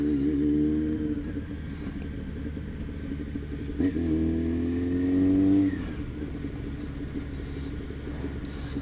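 A motorcycle rides down the Via Anchieta over the Serra do Mar among heavy trucks and semi-trailers, a continuous loud engine drone and road rumble with a rising rev midway, with no talking.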